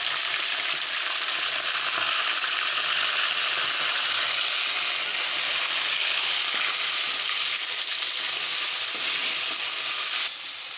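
Garlic and curry leaves frying in a hot oil tempering: a loud, dense, unbroken sizzle, close up and steady throughout, cutting off slightly just before the end.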